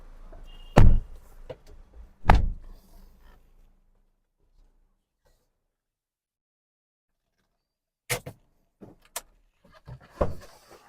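Car door of a 2025 Maruti Suzuki Brezza slammed shut, two sharp close thuds near the start, then quieter clicks and knocks of handling a few seconds later, with no talk.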